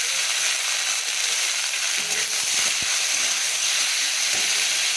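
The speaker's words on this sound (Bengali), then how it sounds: "তেল গরম করে নিয়েছি আর এর মধ্যে আগে উচ্ছেগুলো ভেজে নেব" Bitter gourd pieces frying in hot oil give a steady, close hiss of sizzling that runs throughout, with a few faint clicks and stirring knocks underneath.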